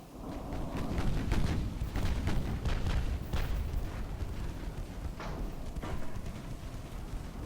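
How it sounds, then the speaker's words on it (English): Battleship secondary guns in the naval warfare game Ultimate Admiral: Dreadnoughts boom repeatedly, heavy overlapping blasts rolling into a continuous low rumble with sharper cracks scattered throughout. "Battleships starting to get their secondaries involved here."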